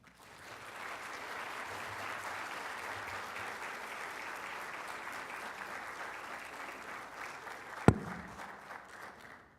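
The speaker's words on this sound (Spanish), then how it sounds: "doña Ligia Chan, para quien pido un cariñoso aplauso." Audience at a Costa Rican economic sciences association conference gives a warm round of applause, steady clapping from a room full of people that swells and holds, then tails off with a sharp thump near the end.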